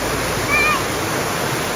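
A waterfall near the Swiss border on the French side roars as a steady, loud, continuous broadband rush of falling water with no pauses.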